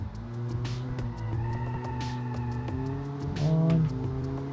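A car in BeamNG.Drive with a modest 55-horsepower engine, just off full throttle, drops revs under braking. A steady engine drone with shifting harmonics is joined by a brief tire squeal near the end.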